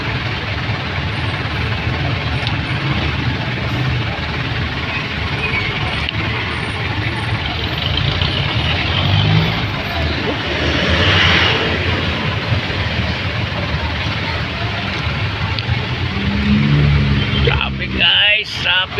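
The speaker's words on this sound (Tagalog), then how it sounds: "Traffic guys, traffic." Bumper-to-bumper rush-hour traffic on a road in San Mateo, Rizal, with idling cars and trucks droning steadily and a vehicle rumbling past near the end; people talk over the engine noise.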